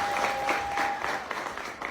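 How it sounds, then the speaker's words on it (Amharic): Audience applause at a gathering: a dense, continuous wash of clapping from a crowd, steady and fairly loud throughout the short moment. "እስኪ ጭብጨባ"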